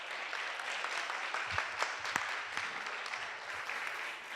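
Applause from an audience at an academic sculpture colloquium, steady, moderately distant clapping with a few sharper individual claps standing out.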